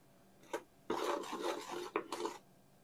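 Soda bread dough is worked with a dough whisk in a bowl, giving a few short scraping strokes followed by longer rasping, rubbing passes, close and clear with no talking.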